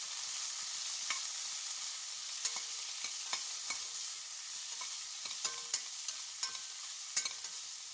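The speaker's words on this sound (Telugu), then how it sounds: "ఇవన్నీ ఒకసారి బాగా ఫ్రై చేసుకున్నామండి ఆనియన్ కలర్ చేంజ్ అయ్యేదాకా కొద్దిగా ఫ్రై చేసుకున్నాం" Onions frying in a pan for brinjal biryani, a steady quiet sizzle running throughout with scattered sharp scrapes and taps of a spoon stirring against the pan.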